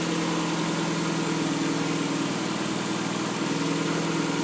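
A Mazda Miata engine idles steadily close by, a continuous even hum with a fine rhythmic pulse and no voices.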